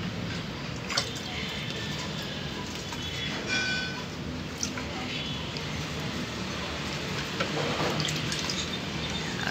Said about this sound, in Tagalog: So, unti-unti na natin lagyan ng konting tubig.